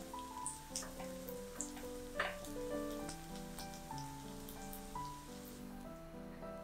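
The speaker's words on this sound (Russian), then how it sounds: "Лук отправляю в сковородку и обжариваю 2-3-4 минутки до слегка красивого золотистого цвета." Onions fry in a pan with a soft, steady sizzle, scattered small pops and crackles crackling faintly and alone throughout.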